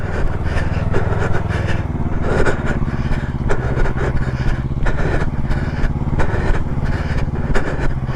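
A learner rides a motorcycle in first gear, the engine droning loud and close with a steady low putter and small throttle swells, a faint voice briefly audible beneath.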